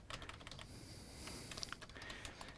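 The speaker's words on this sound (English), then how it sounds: "what happens if we now type characters in here?" Quiet, close clicking of characters being typed on a computer keyboard while testing a PIC18F26K22 circuit, irregular light keystrokes in a short burst.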